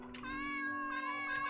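A cartoonish cat meow from a video game, a single sustained tonal call lasting over a second, loud and clear with no talking over it.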